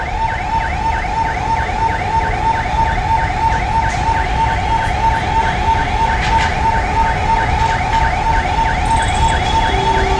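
An ambulance siren wails in a fast, repeating sweep, loud and close, at a Civil Defence rescue demonstration in Delhi. A steady tone and light traffic noise run beneath it.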